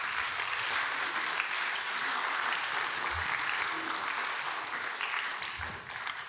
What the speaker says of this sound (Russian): жидкие аплодисменты ребятам.